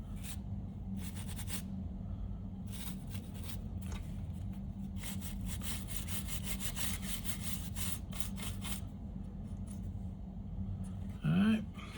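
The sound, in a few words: scrubbing rust off tape machine metal parts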